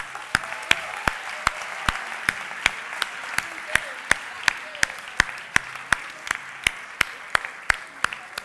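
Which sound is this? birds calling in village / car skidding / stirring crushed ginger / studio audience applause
studio audience applause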